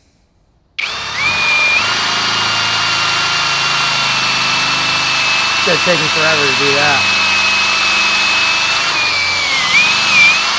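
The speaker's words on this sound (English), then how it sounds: "I'm going to be taking this 25-inch drill bit and I'm going to be running it through this piece of 4x4 with 6x6" A power drill fitted with a 25-inch bit bores through a 4x4 wooden post, running as a loud, steady whine that holds for about ten seconds with a brief pitch dip near the end, while someone talks over it.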